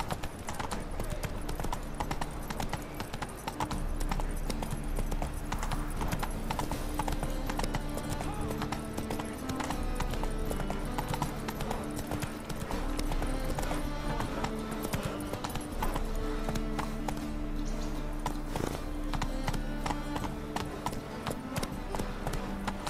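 Horse hooves clip-clopping at a gallop in The Witcher 3 video game, a steady rhythmic beat under loud game music and a voice speaking throughout.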